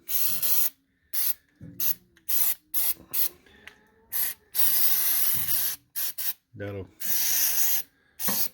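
An aerosol lubricant is sprayed onto the joints of an Ariens Deluxe 28 SHO snowblower in short and longer hissing bursts separated by brief pauses, close and loud.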